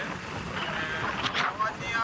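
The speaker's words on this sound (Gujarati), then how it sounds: "બહુ પવન લાગે છે." Strong wind buffets the microphone outdoors on a dirt road near a farm in Gujarat, a loud continuous rumble and roar with gusty surges.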